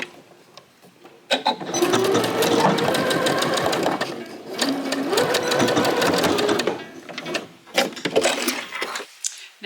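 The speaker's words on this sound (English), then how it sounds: "I'm going to stitch on that fold, that 1/4 inch fold" A sewing machine stitches a quarter-inch fold on a fabric pouch in loud, rapid mechanical runs that start and stop, with short pauses and small handling clicks between bursts.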